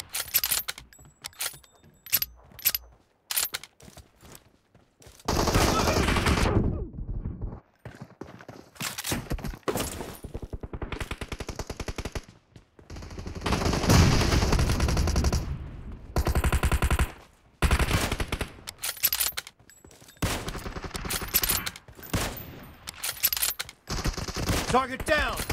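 Sniper shooter game gunfire in team deathmatch, sharp close shots and rapid bursts separated by quiet gaps, with some longer stretches of dense firing and clatter.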